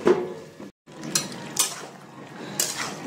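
A metal lid goes onto a cooking pot of bottle gourd with a few sharp clanks and light scrapes against the rim, close and moderately loud, separated by brief pauses.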